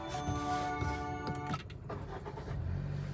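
A 2025 Honda Amaze top model being switched on from inside the cabin, with electronic chime tones and clicks followed by the engine settling into a low, steady hum.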